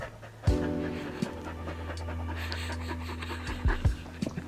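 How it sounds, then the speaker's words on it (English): A dog pants rapidly after playing fetch indoors, quick rhythmic breaths close by, with faint background hum and a few light knocks and bumps. "We just played fetch and she's panting like crazy."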